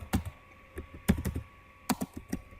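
OSPF configuration commands typed on a computer keyboard: close, clacky keystrokes in quick clusters separated by short pauses, with no talking.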